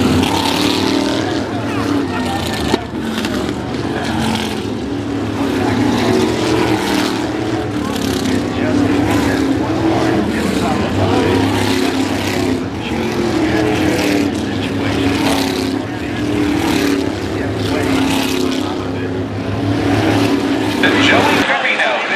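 SK Light Modified race cars at Stafford Speedway hold a steady, loud engine drone throughout, with an announcer talking over the track noise.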